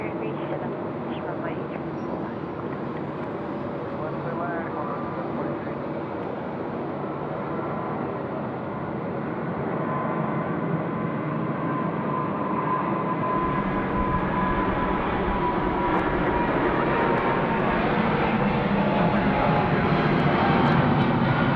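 At night at Sydney Airport, an Etihad jet airliner rolls for takeoff. A steady, loud engine roar builds gradually over about twenty seconds and keeps going without a break.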